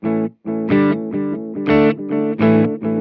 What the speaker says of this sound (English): that one's supposed to sound like an Echoplex, and it does